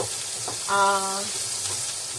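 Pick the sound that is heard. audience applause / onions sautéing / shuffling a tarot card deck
onions sautéing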